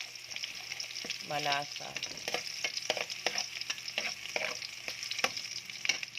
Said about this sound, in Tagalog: Gawin natin golden brown yung bawang para masarap